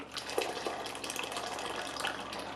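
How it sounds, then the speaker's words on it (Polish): Warm water is poured from a kettle into a mix with milk powder while tiger nut carp bait is being prepared, a steady close splashing stream that runs without a break. "Ja jeszcze na tym etapie dolewam ciepłej wody z czajnika"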